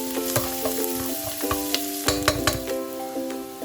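Chopped garlic sizzles steadily in hot oil in a pan while cooking pork adobo, with a utensil clicking and scraping now and then over soft background music.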